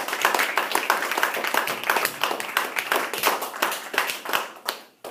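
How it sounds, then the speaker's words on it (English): Students at a school gathering clap for their classmates, a close, lively patter of hands that holds steady for several seconds and then cuts off abruptly near the end. "let's give a round of applause to all the students who participated"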